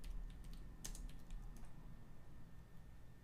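Computer keyboard typing sounds as a quick burst of close key clicks, then a few scattered taps before fading to quiet.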